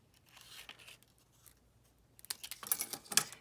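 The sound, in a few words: scissors trimming paper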